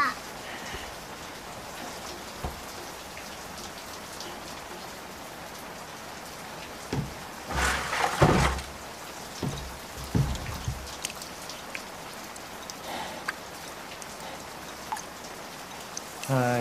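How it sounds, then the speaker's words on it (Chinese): Steady rain patters on surfaces throughout, with a few louder splashing bursts partway through and light speech-like sounds in the background. "下雨了。"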